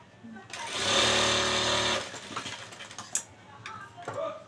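Sewing machine stitching along a blouse border at a tailoring class, a steady loud whirring run of about a second and a half, then stopping, followed by small handling clicks and a brief voice.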